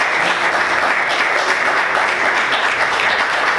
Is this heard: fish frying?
no